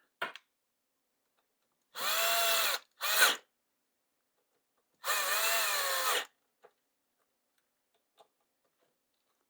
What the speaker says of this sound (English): are steel screws going into plastic. So if you're using a screw gun, for God's sake, be gentle.